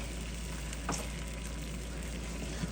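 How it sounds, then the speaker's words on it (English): Spices sizzle in hot oil in a pan for lamb biryani, a steady close crackling hiss with a few soft pops and a light stir, and no voices. "here they are, beginning to sizzle"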